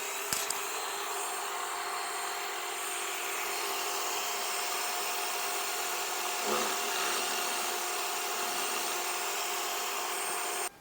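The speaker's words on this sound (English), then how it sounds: "What I'll do now is I will drill that out to 6mm and then tap in our plug." A power drill bores out a hole in wood to 6mm for a plug repair, a steady high-pitched whine running continuously for about ten seconds with a brief bump in load midway, no talking.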